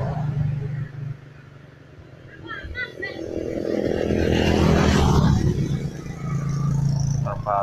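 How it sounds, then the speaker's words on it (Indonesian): A fast car roars past on a road through a rubber plantation in Kerjo, Karanganyar, the engine growing louder to a peak and then fading as it passes close by, with a person talking over it. "Seperti ini ada mobil kenceng banget guys."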